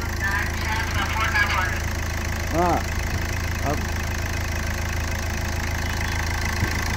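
A 2012 Hyundai Verna Fluidic SX four-injector diesel engine idles with a steady low rumble and faint clatter, close by, while people talk briefly over it.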